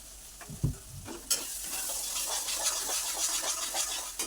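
Green peas dropped into fried spice paste in a wok, sizzling loudly and continuously while being stirred, with a few soft clanks of the utensil at the start before the hiss swells and holds steady.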